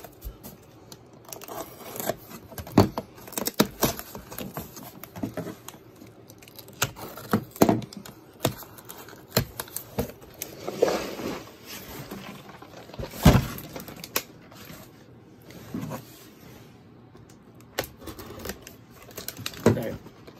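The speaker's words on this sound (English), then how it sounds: "Packaging." Packaging from a LEGO Star Wars eBay haul being opened by hand, with irregular crackles, tears and sharp crinkling bursts scattered unevenly across the stretch, close up and fairly quiet between handling noises.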